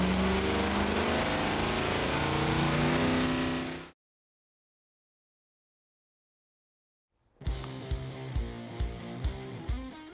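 A small-block Mopar V8 with upgraded induction and valvetrain runs on a dyno, first a loud sustained high-rev roar that cuts off abruptly, then after a silent gap a lumpy idle with rhythmic pulses.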